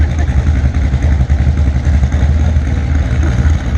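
A wheel stander vehicle's big engine roars loud and rough under throttle at a rural show, a continuous close rumble with slight surges and no clear talk.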